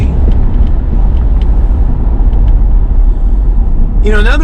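Inside the cabin of a 1990 Toyota Hiace wagon while driving with the windows up, a low, steady road and engine rumble fills the interior, with a voice briefly appearing at the end.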